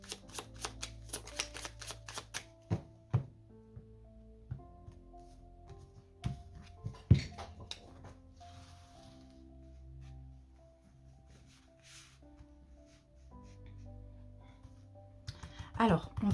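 Tarot cards being shuffled and laid out for a cross spread, with quick riffling flutters at the start, then scattered soft card slaps and handling noises, and a voice speaking quietly in between.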